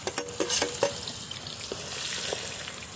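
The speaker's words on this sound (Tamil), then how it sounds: "அடுத்து வெங்காயத்தையும் உள்ள கொட்டியாச்சு." Chopped onions hit hot oil with cumin and spices in a pan during outdoor riverside cooking, a steady close sizzle that swells after a few quick stirring scrapes and knocks.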